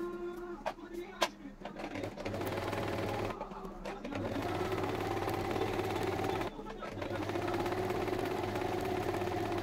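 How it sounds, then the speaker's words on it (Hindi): Electric sewing machine stitching the folded ends of a pressed fabric strip for a half niqab, running steadily in mid-level bursts with brief pauses between runs. "प्रेस करने के बाद हम इसके एंड्स को बंद कर देंगे सिलाई करके"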